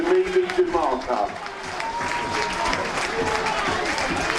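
A football crowd at a Dulwich Hamlet v Enfield Town Isthmian Premier Division play-off applauds a player being substituted off. The clapping is a dense, sustained patter under continuous commentary and crowd voices.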